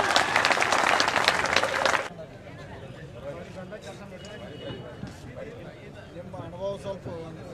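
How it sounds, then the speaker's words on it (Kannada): Villagers at a farmers' protest in Bagalkote burst into loud, dense applause for about two seconds, then it stops abruptly and a voice carries on speaking over faint crowd murmur. "ಜೋರಾಗಿ ಚಪ್ಪಾಳೆ ಹೇಳ್ಬೇಕು ಅವ್ರ ಬಂದು."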